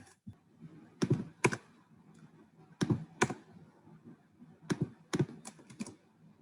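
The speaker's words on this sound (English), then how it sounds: "So now when we type this in, it should work." Someone types on a computer keyboard in short, quiet bursts of clicking keystrokes with pauses between them, alone with no talk.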